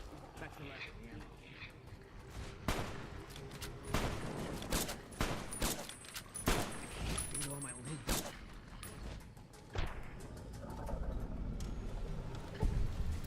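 Scattered gunfire from a firefight in Fallout: New Vegas, irregular sharp shots and impacts spaced across the scene alongside a person talking.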